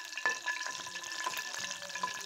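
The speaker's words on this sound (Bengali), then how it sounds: "শাকে তেল দেওয়ার জন্য আমি একটু তেল ঢেলে দিচ্ছি। 2টা শুকনো লঙ্কা দিয়ে দিলাম।" Oil with two dried red chillies frying in a pan for cooking greens, a steady close sizzle with crackling pops and faint stirring scrapes throughout, no voices.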